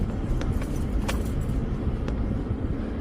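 A vehicle rumbles over a rough limestone cap rock bush track, with a steady low engine drone, crunching tyre noise and occasional knocks and rattles from the body bouncing over the bedrock.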